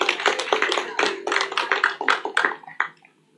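A live audience in Indonesia breaks into hand claps, a run of sharp claps and taps that grow uneven and trail off into silence.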